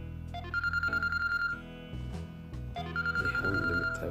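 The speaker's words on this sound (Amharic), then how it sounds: "ሪንግ ይላል።" Ringback tone on a phone call placed through an app, steady repeating electronic ring bursts with a short gap between them, moderately quiet and heard alone with no talk.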